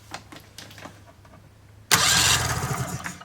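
A 1997 Polaris Indy Classic snowmobile engine is pull-started with its spark plug grounded on the head: a few soft clicks, then a sudden loud, rough cranking burst that rattles on close by for over a second.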